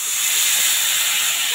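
Water poured into hot fried spices and oil while cooking a Chital fish muitha curry sets off a loud, steady hiss of sizzling and steam that lasts the whole moment, close to the pan.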